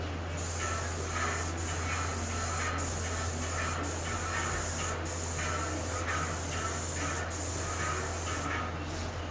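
Steady hiss of a Tritech airless paint sprayer running continuously while spraying Renner wood coating on site, with a constant low machine hum beneath and brief regular clicks.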